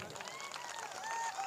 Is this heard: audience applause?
yes